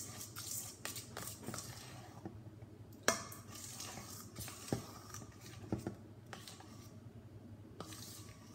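Slime stirred and mixed by hand, giving faint, soft wet clicks and squelches that continue steadily with a few sharper taps, fairly quiet and with no talking.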